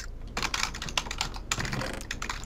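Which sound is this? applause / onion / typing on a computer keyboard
typing on a computer keyboard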